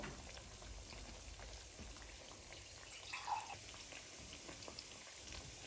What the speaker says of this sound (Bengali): পাকোড়াগুলো এখন আমি 2 পাশ লাল লাল করে ভেজে নিব।